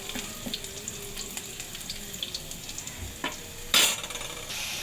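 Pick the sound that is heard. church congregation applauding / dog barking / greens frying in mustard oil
greens frying in mustard oil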